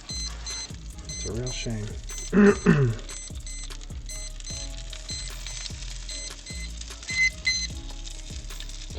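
A meat thermometer probe on an Old Country Pecos smoker emits a steady run of sharp, evenly spaced beeps throughout, close and fairly loud, while someone speaks briefly over them.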